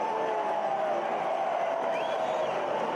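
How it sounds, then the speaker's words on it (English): A home crowd cheers steadily after a Lou City goal in a soccer match against Miami, a sustained broad roar of stadium noise with a voice rising over it. "And they get the home crowd going."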